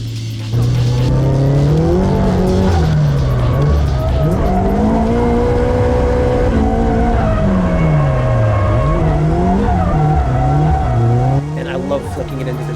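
A car engine revs hard and steady with tires squealing through a slide on Sailun Atrezzo SVA1 tires, drifting at full throttle, loud and close, for about eleven seconds before cutting off.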